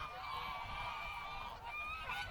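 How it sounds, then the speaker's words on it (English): Geese honk repeatedly among a small flock that includes a white goose, the calls sustained and fairly close over a steady outdoor background. "look how small that one white goose is there"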